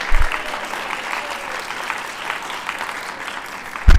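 A garden show audience applauds at a lighthearted horticulture talk with steady, moderately loud clapping that stays even from start to finish, with brief low thumps at the edges.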